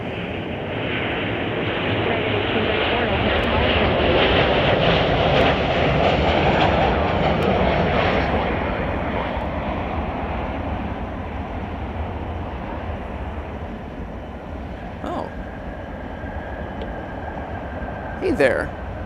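An Airbus A340 four-engine jet passes at Chicago O'Hare airport, a broad loud roar swelling and then slowly fading, with a few sharp clicks near the end.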